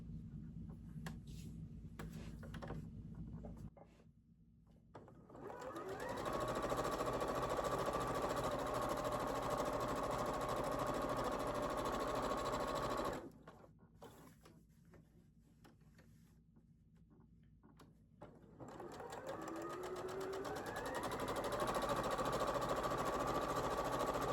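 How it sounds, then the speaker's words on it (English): A sewing machine runs a quarter-inch seam through quilting fabric in two long sustained bursts of steady mechanical whirring with a rising motor tone, separated by a quiet pause, close and clear with no talking. "sew a 1/4 inch on either side"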